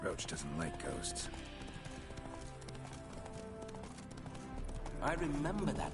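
Hooves of Geralt's horse Roach clatter in rhythm in the game Witcher 3, a close, even gait running under background score and a talking voice.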